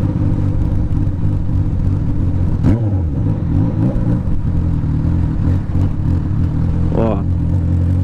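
Honda CB 1000R motorcycle running on a straight-pipe exhaust, a loud, steady, deep rumble close by with a couple of short throttle blips rising over it.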